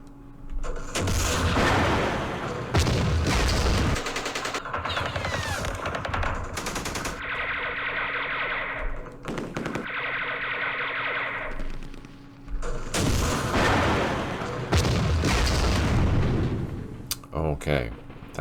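Machine-gun bursts and artillery fire from units in the Vietnam war game Campaign Series Vietnam during the Battle of Hue, loud rattling volleys and booming reports with echoing tails, coming in waves with pauses between them.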